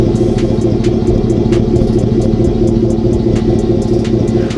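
A 2018 Chevy Silverado pickup fitted with a 3-inch MotoFab Installer Series catback exhaust, idling with a loud, steady low rumble and deep exhaust drone close by, with faint ticking clatter over it.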